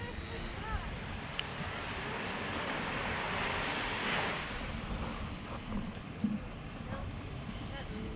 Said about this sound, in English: This is what the beach looks like at Amber Cove.